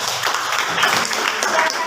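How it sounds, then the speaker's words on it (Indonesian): Classmates clap for a student's question during a linear programming lesson, a brief burst of scattered applause lasting a couple of seconds, fairly close and steady. "Tepuk tangan dulu untuk Mutiara"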